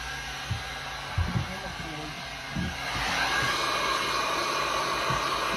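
A handheld heat tool warms epoxy resin, blowing with a steady whooshing roar that grows louder and fuller partway through. There are soft thumps and a faint voice underneath the blowing.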